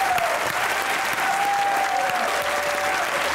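Steady, dense audience applause fills a poetry show's studio hall, continuous and loud throughout, with a faint voice threaded beneath the clapping.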